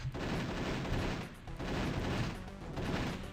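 Turrets in a modded video game fire in rapid bursts, a dense rattling volley of shots that pauses briefly and then resumes, heard at low volume with no talking over it.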